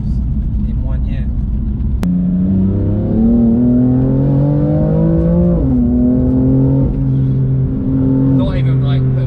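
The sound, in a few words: 700 BHP BMW M4 accelerating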